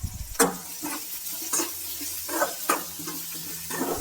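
Sliced onions and chana dal frying in a pan for capsicum palya, a steady soft sizzle broken by several sharp scraping stirs of a spatula, close and moderately loud with no talking.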